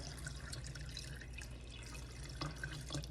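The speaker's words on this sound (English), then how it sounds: "To that, I will add 2 cups of room temperature water." Room-temperature water pours from a tap-like stream into a warm pot holding white sugar, a steady close trickle and splash with a few distinct drips near the end.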